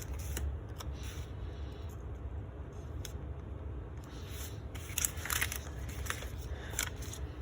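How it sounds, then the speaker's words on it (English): Scissors snipping around a stamped Post-it note, quiet close crisp cuts and paper rustles scattered irregularly, with a cluster of sharper snips toward the end. "use the scissors to cut that out"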